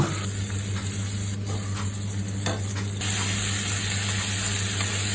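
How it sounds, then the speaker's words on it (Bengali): Chilies being stir-fried in a pan for fried rice, with a steady broadband sizzle and scraping stirs that grow louder midway, close and continuous, with no talk. "তারপরে এই যে মরিচ দিয়ে দিলাম আর এগুলো নেড়ে চেড়ে"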